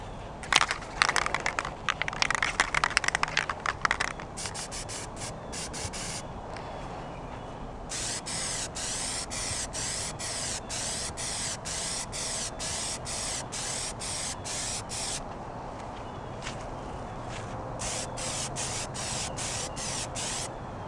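A light tack coat of Plasti Dip aerosol sprays in a few short hissing bursts, then settles into a long, steady run of rapid pulsing spray passes, close and alone.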